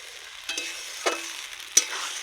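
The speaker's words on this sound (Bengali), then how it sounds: "এবার আমি হালকা হালকা ভাবে ভেজে নেব।" Masala frying lightly in a pan for a rustic village-style chicken curry, a soft steady sizzle broken by three distinct scraping stirs of a spatula, close and moderately quiet with no voices.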